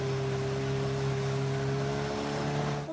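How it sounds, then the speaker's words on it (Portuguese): A speedboat running at high speed on the Guamá river in Pará, its engine a steady close drone with strong low tonal hum held for the whole stretch, over broadband water rush and wind. "Uma lancha em alta velocidade aparece no vídeo"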